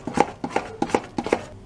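Urad dal batter for medu vada being stirred by hand in a bowl gives four evenly spaced, soft, wet slapping strokes, close and alone.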